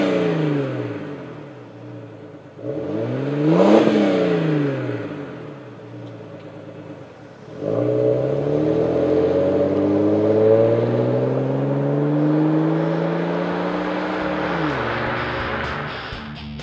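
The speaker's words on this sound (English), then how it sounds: "This particular vehicle is a 4-liter, which has a more subtle, milder performance tone." A 4.0-litre Jeep Grand Cherokee fitted with a Flowmaster cat-back exhaust revs twice, the engine climbing and falling in a short blip and then a longer sustained rev, loud and close with no talk over it.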